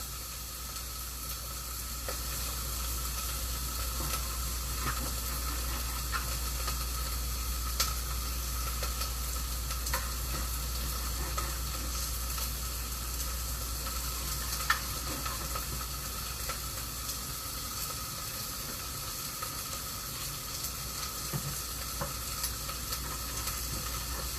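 Tiny cut pieces frying in a pan for a barbecue cook, a constant dense sizzle and hiss held close throughout, with a few faint clicks and stirring scrapes.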